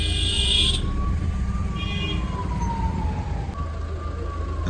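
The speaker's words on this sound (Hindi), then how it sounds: "एम्बुलेंस को रास्ता दिया जा रहा है।" An ambulance siren on a long bridge road wails in a slow rising-and-falling sweep through the whole stretch, loud and fairly close, over steady low traffic rumble, with a brief higher horn-like tone partway through.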